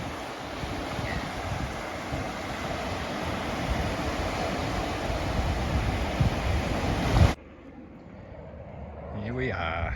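Waves surge against the breakwater at Warrnambool with a constant loud roar, heavily buffeted by wind, then cut off abruptly into a much quieter, distant wash near the end.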